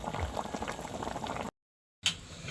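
Pot of ginataang talbos ng kamoteng kahoy, cassava leaves in coconut milk, boiling vigorously with dense bubbling and popping, cut by a brief silent gap before the bubbling resumes.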